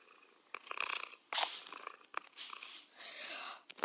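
A cat purring close up, soft rhythmic rasping bursts that come and go in uneven waves, quiet and alone.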